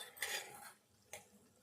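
Masala stirred into a bitter gourd curry in a metal pan, with two scraping clatters of the spoon against the pan, the first longer and louder, the second a brief knock, close and quiet, with no talking.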